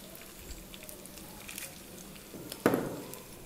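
Seasoning seeds dropped into hot oil in a pan give a sudden loud sizzle that rises after quiet kitchen noise and slowly fades into a steady crackle.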